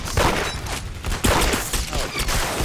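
Dense video game gunfire from a gun game mode, a loud close fusillade of rapid overlapping shots that runs without a break.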